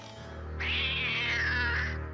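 A cartoon cat lets out a single long, loud meow lasting more than a second, drawn out and wavering, alone over a faint background music bed.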